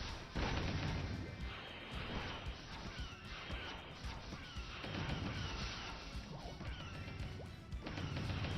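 Dense, continuous crashing blasts of explosion effects from the video game Chronostory fill the whole stretch, loud and layered with overlapping bursts and impacts, with no talk heard.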